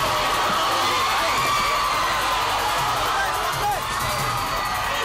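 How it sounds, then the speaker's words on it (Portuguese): A crowd in Timbaúba, Brazil boos and shouts loudly as police lead a kidnapping suspect to a police van, with a steady roar of jeering voices and yells throughout. "o que acontece debaixo de vaias e gritos"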